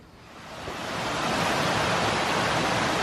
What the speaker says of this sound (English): come across another waterfall that I wasn't expecting